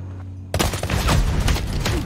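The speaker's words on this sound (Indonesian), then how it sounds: "setelah Abel mati ditembak oleh pasukannya Lendina, peperangan pun langsung dimulai" Sudden burst of heavy gunfire in a war movie scene, a dense, loud fusillade of overlapping shots erupting after a quiet moment and continuing without pause, with no speech.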